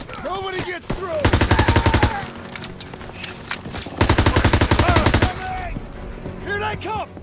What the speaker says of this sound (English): Open fire! Someone get on the MG!